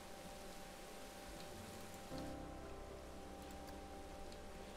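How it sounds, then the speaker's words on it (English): Steady rain added in the Planet Coaster video game, a continuous soft hiss of falling drops that thickens slightly partway through, with no voices. "Okay, so now I also want to add, let's add some rain."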